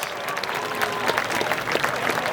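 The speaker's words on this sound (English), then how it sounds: "please stand for a big round of applause" A crowd at a high school homecoming football game claps in a steady, fairly loud burst of applause, with individual claps standing out over the general noise.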